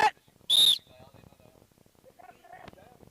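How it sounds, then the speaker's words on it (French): A single short, shrill referee's whistle blast starts play at a sporting game, followed by people talking quietly. "le jeu démarre à mon coup de sifflet."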